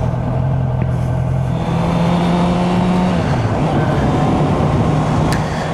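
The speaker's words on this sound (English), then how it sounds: "I'm actually on my Honda CB650F" Honda CB650F motorcycle riding on a Pennsylvania road, a steady loud engine drone with wind rush throughout, the pitch dipping briefly midway as if shifting gears.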